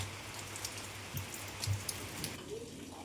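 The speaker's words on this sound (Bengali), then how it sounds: "আজকে তো বৃষ্টি পড়ছে আর ঠান্ডা ঠান্ডা আবহাওয়া" Light rain patters softly and steadily, with scattered drops tapping on a surface nearby.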